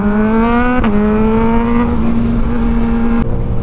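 Close and loud, a car engine runs at a steady, even drone with a strong tonal hum that dips and shifts slightly with a couple of brief clicks, as the car warms up before a drive.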